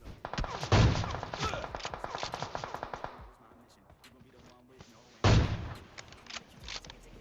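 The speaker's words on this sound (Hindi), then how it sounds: "कोई और गोली चलाने लग जाता है" Rapid automatic gunfire in the battle royale game PUBG Mobile, a loud close burst of shots lasting about three seconds, then a pause and a second heavy burst, with scattered quieter shots in between.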